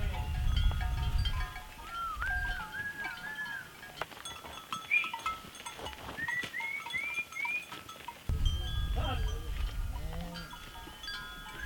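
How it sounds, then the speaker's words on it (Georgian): Cattle are driven across a mountain pasture in Georgia in mid-August, with clanking cowbells and distant animal calls over bursts of wind rumble. "ნორჩი და მამუკა ახალი ბალახიანი ადგილებისკენ მიერეკებიან ძროხებს."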